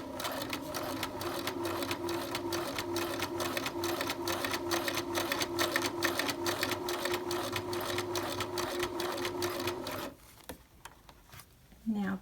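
A sewing machine stitches a princess seam on a garment, back tacking, with a fast steady needle rhythm running continuously for about ten seconds before stopping, followed by quieter handling noises.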